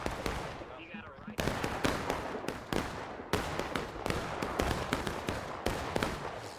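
Musket volleys crack out in a War of Rights multiplayer battle, dense rolling gunfire with repeated sharp reports and sustained rumble, loud and continuous across the field while a voice talks over it.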